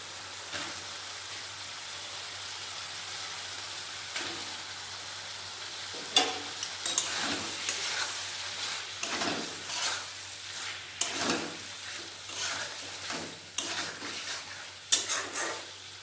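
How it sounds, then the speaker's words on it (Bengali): Pointed gourd and potatoes sautéed in a pan with a little water, a soft continuous sizzle with intermittent scraping and clattering strokes of a spatula that grow busier partway through. "পটল আলু ভালোভাবে কষানো হয়ে গেছে"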